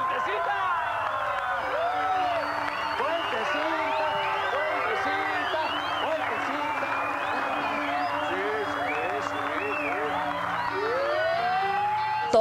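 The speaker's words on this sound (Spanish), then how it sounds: "Recibamos con un fuerte aplauso a Dianita" An audience welcomes a guest named Dianita with sustained applause, whoops and cheers that fill the room evenly at moderate loudness, with a few voices calling out over the clapping.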